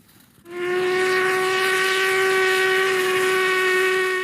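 A steam train whistle sounds near the Glenfinnan Viaduct in the Scottish Highlands, a single long, steady, loud blast starting abruptly after a brief quiet moment and holding to the end.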